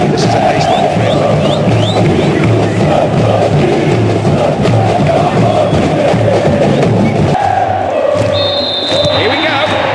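A dense stadium crowd roars and chants in PES6 football video game, a loud continuous rumble with rhythmic surges and a whistle-like tone near the end.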